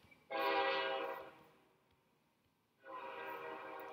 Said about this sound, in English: Have a train outside my door.